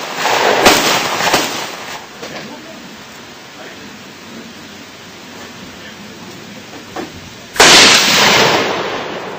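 Mosin Nagant 91-30 rifle fired at balloons outdoors, with a couple of sharp nearby cracks early on, a long rolling echo, then another loud blast near the end.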